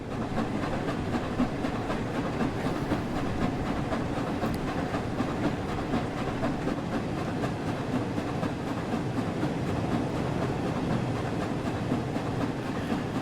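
The Flying Scotsman steam locomotive in Train Sim World 4 runs at speed, a steady loud rumbling roar with rhythmic chuffing and rail noise throughout, no talk.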